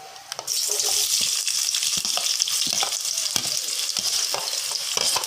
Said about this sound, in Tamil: எண்ணெய் சூடாயிடுச்சு, அதில் நம்ம வெங்காயத்தை போட்டுக்கலாம்.